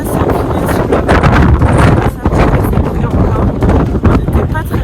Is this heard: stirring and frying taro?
no